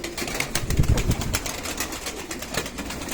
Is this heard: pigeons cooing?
yes